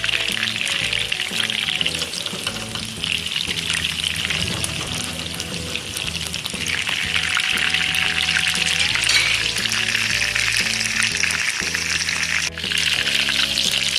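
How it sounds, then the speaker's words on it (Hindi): Chicken pieces for chicken Manchurian fry over low heat, giving a steady, loud sizzle with a bright hiss that runs through the whole stretch, alongside a brief pouring, trickling sound. "हल्की आंच पे इसको अच्छी तरह फ्राई कर लेंगे।"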